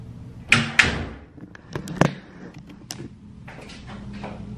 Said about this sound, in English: I hate this bathroom door. It closes automatically.